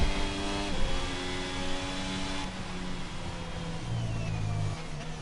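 Formula 1 race cars in a video game, Mexican Grand Prix, engines whining with steady harmonic tones that shift pitch as cars pass and change speed, continuous mid-level drone with no talk.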